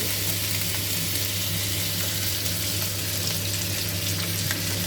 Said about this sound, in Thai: เราจะเอาสามชั้นลงไปในกระทะแบบนี้นะคะ เดี๋ยวก็จะใส่น้ำมันลงไปเล็กน้อย